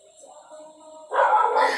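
A pet dog outside the house barks loudly and continuously in the second half, following a quieter stretch of faint background sound and voices.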